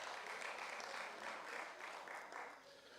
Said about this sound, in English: Can we give them a word of applause?